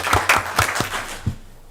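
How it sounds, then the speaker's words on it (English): A handful of people clap at a city council meeting in Waynesboro, Virginia, honoring police division commanders. There are a few soft, roomy claps in a loose rhythm, then they trail off into quiet. "I'm going to applaud them"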